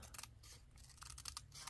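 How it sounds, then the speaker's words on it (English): Small mini scissors trim the edge of a paper envelope pocket, a string of quick crisp snips in an irregular rhythm, close and quiet, with no voices. "I'm going to straighten this out here on the end with my handy dandy little mini scissors"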